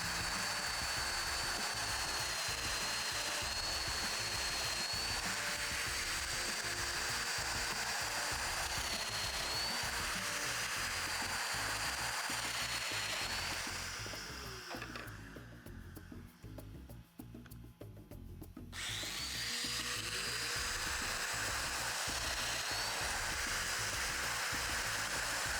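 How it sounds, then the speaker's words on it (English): A mortising tool cuts mortises in outdoor table slats, a loud steady high whine that drops out briefly in the middle and then resumes. "I'm going to use the loose setting. So I'll get it set up and do some mortises."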